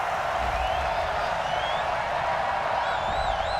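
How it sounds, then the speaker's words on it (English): A stadium crowd at an American football game reacts unhappily to a penalty flag, a dense sustained roar of voices, steady and fairly loud, with faint whistle-like tones rising near the end. "Well, the crowd doesn't like that."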